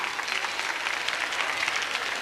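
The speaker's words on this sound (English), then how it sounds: "Clap! Clap!" Audience at a comedy show breaks into dense, sustained applause, a steady roar of many hands clapping at close range.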